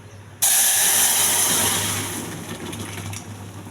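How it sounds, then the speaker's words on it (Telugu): Boiled tomato rasam is poured into a hot tempering of black pepper, mustard seeds, cumin, fenugreek, ajwain, curry leaves and dried red chillies, erupting in a sudden loud, steamy hiss that slowly fades over a few seconds, with no talking. "మరిగిన రసం వేసేయాలండి తాలింపులో."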